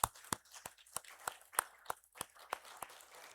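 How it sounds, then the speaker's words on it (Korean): Congregation clapping during a Sunday morning church service: sharp, evenly spaced claps, about eleven in a steady rhythm, fairly faint in a quiet room with no voices. "박수 한번 하겠습니다."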